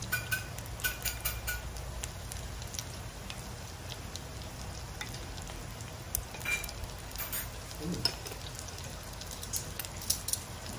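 Mussels being double fried in hot oil, a soft, steady crackling sizzle with scattered sharper pops, faint and close, with no talking.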